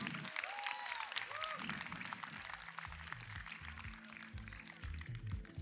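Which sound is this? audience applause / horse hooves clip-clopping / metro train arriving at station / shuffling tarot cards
audience applause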